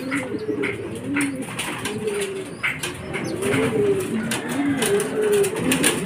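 Racing pigeons cooing at a loft during derby arrivals, soft repeated coos rolling on steadily and close by, with faint background chatter and rustle.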